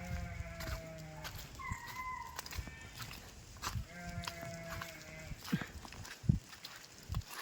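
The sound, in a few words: sheep flock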